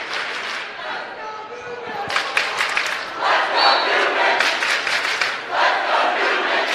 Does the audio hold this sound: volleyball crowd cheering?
yes